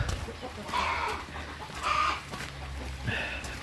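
Brahma hens and broiler chickens clucking in a farmyard pen, a few short bursts of clucks spaced apart over steady low background noise, no talking.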